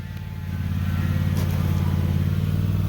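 An AMC Rambler's flathead six-cylinder engine revs under throttle, a steady close, loud drone that builds in the first half second and holds.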